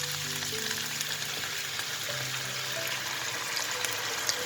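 Coconut milk poured into chicken strips frying in a pan, a steady hiss and bubbling sizzle with light liquid sounds, close and continuous.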